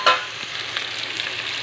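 Bottle gourd pieces tossed into a pan of fried onions with curry leaves and dried red chillies for a village-style curry; a sharp clatter at the start gives way to a steady, close oil sizzle with no voices.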